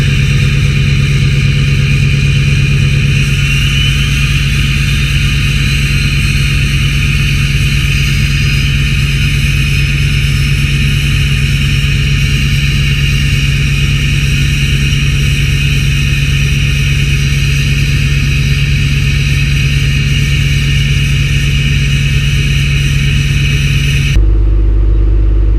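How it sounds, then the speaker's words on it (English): Duramax diesel truck engine sitting in high idle on a cold snowy morning in Louisiana, a steady close rumble overlaid with a sustained high whistle that holds unchanged for over twenty seconds before cutting off. "This duramax will go into high idle mode in a minute and start whistling."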